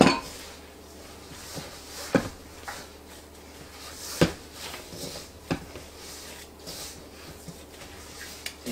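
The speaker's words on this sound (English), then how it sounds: "I'm going to finish the rest of this mixing by hand" Pizza dough being mixed by hand in a bowl, with steady rustling and repeated sharp clinks and knocks against the bowl over a constant low background hum.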